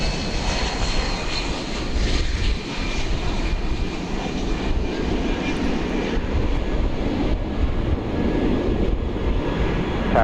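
A jet airliner rolls for takeoff on runway 18 left at Dallas/Fort Worth airport, its engines a loud, steady broadband roar with a thin whine on top that holds for the whole stretch without a pause.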